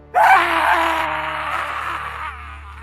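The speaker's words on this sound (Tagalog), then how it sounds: "Sigaw yun ng tao, paghingi ng tulong." A human scream crying for help in a Filipino aswang horror audio drama, a long anguished wailing cry that starts abruptly and slowly fades over nearly three seconds, loud and alone.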